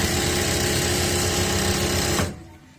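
A sewing machine runs a steady, loud, continuous whirring stitch down a palazzo pant seam, then stops abruptly just before the end, leaving near silence.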